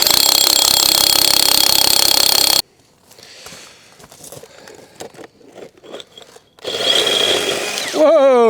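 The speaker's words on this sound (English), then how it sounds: "So I've already done a little bit of drilling" Power drill boring a hole with a small starter bit, a loud steady whine for a few seconds, then quieter scraping and handling, and another loud burst of drilling near the end.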